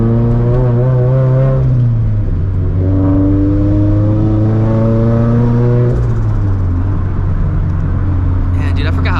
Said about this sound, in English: how quick this damn turbo spools